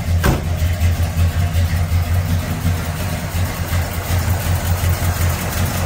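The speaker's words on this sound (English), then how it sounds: "Fires right up, holds a nice idle." A 1965 Pontiac GTO sits idling with a lopey cam, giving a steady, deep, close-up engine rumble that carries on throughout without a break.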